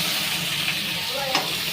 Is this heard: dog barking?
no